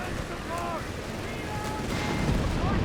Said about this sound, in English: Pax firing at the building.